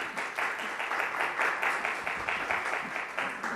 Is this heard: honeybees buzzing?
no